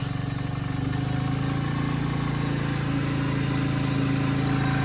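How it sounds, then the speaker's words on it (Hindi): A 100cc motorcycle engine idles steadily up close after starting, a buzzing putter with a regular pulse and no talk over it. "इंजन की आवाज़ हो रखी है अभी फिलहाल इसकी चेंज"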